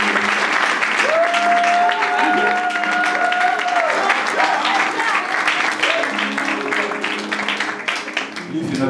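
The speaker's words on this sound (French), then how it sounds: "Est-ce qu'on peut applaudir juste pour Alan" A church congregation applauds at a youth day gathering, steady crowd clapping throughout with a sliding musical tone and some voices underneath, tapering slightly toward the end.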